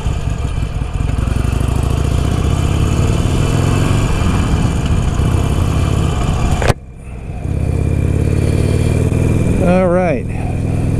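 A motorcycle engine roars loudly and steadily, cutting off sharply partway through, then returning as a rumbling run with a brief rising pitch sweep near the end, as if accelerating away.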